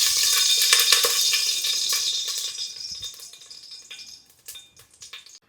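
Oil heating in a pan for white chicken pulao crackles and sizzles loudly, with a stirring scrape and light clinks, then the sizzle fades to sparse pops.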